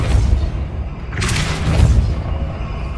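A Depulso spell cast in Hogwarts Legacy: a loud, booming burst of force with a bright crackling whoosh that swells and fades over about a second, over a low rumbling game backdrop.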